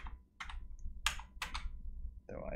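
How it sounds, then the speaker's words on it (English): Arrow keys on a computer keyboard tapped while setting up a single-needle gauge for a Boeing 737-800 home cockpit: a handful of separate crisp clicks close to the mic, ending in a brief louder burst. "then you can just use your arrow keys"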